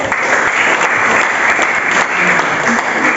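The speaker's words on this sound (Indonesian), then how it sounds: "Bagus, tepuk tangan nih ya." Students applauding in a junior high school classroom in Bogor, Indonesia, loud continuous clapping from a group close by with no pauses.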